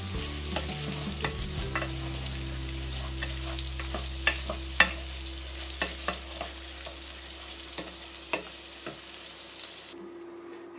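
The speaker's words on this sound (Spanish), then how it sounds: "Acabo de agregar el arroz a mi rehogado de cebolla. Lo voy a mezclar" Rice being stirred into sautéed onion in a pan, a steady sizzle under a low hum with repeated sharp scrapes and taps of the stirring utensil, no talk.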